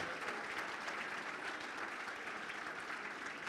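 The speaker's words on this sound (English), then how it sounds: "So let's just give one big round of applause to everyone who was recognized this evening" A roomful of people at a fire division's annual awards banquet breaks into steady, dense applause, a continuous wash of clapping heard from within the crowd without a break.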